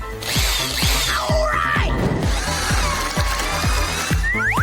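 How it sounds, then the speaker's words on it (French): A power drill whirs and grinds in short bursts, with rapid clicking and scraping as the bit bores a hole in a giant chocolate egg close by. "Maintenant, je vais découper le trou. Je vais le faire avec une perceuse."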